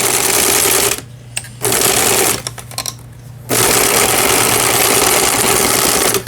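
Lion 372 sewing machine running a zigzag stitch, a loud close steady mechanical whir with rapid needle chatter, stopping twice in short pauses before resuming, with no voices.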